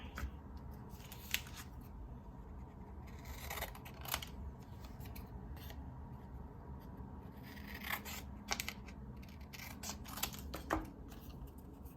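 Scissors cut paper for a watermelon collage, giving quiet intermittent snips and rustles set against a soft, steady background hum.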